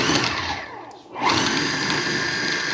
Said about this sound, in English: I'm going to put it right here in this food processor. Pineapple juice and all. Just like that. And this is how we're going to make crushed pineapple.